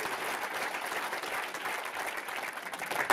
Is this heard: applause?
yes